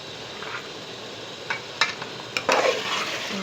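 Potatoes being stir-fried in a pan for chicken karahi: a steady low sizzle broken by a few sharp clinks and scrapes of a spoon against the pan, louder toward the end.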